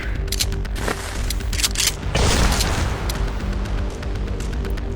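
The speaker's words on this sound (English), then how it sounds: "I'm standing with a live grenade. Let's see if that opens it up." A grenade going off in a room-clearing shooter game, a loud booming blast amid dense rapid gunfire and clattering, continuous and close throughout.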